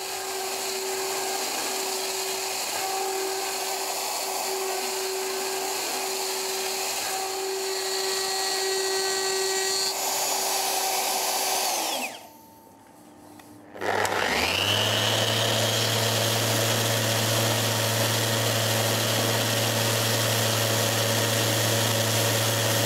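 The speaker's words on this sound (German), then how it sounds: "Neben die Bleistiftmarkierung fräst Boris Ritscher eine längliche Einkerbung, eine sogenannte Nut." A wood router mills a groove into a wooden drum shell with a loud, steady high whine. The motor cuts out briefly partway through, then spins back up and keeps running.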